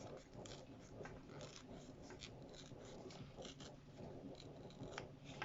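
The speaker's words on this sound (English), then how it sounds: "now I'm just going to tear" A page is slowly torn by hand from a paper pad, giving a faint, continuous crackling rip made of small irregular tearing bursts over several seconds, close up and quiet.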